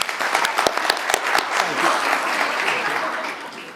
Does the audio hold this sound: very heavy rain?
no